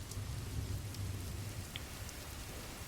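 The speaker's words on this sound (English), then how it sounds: "I'm participating in the rainy weather." Steady rain falls outdoors in a soft, even wash with a low rumble beneath and a few scattered drops standing out, fairly faint and without voices.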